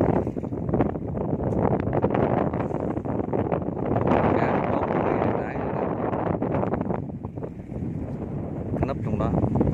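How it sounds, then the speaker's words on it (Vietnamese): Strong wind at an estuary fishing spot buffets loudly and continuously, a dense roaring rush with gusty surges that never lets up. "gió nhiều quá, nghe chắc nó hú lắm"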